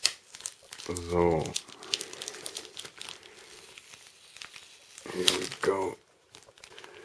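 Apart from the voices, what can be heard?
removing adhesive tape strip from box packaging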